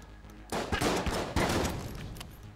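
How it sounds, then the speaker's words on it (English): An explosive gunshot in the video game Enter the Gungeon lands as a loud, close burst followed by a second blast and a rumbling tail, with no one talking over it. "That was an explosive shot."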